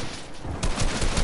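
Rapid gunfire in Fortnite, a dense continuous rattle of shots that grows louder and heavier midway through, with no talking over it.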